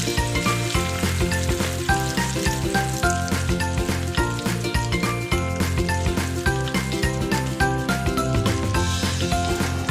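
Rohu fish pieces crackle and sizzle loudly in hot oil in a pan, a continuous busy frying hiss with constant popping and faint metallic clinks, no one speaking.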